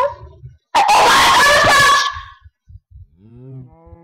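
Minecraft cows in a video game let out one loud, drawn-out moo after a short pause, followed by softer thumps and a brief tonal call at the end.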